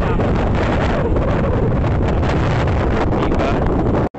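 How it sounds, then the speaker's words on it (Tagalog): Strong wind buffets the microphone outdoors on a San Francisco street, a loud continuous rumble that fills the whole stretch and cuts off abruptly at the end. "Masyadong windy."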